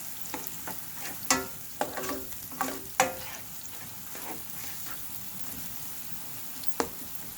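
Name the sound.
pork chop sauce simmering in a pan while being stirred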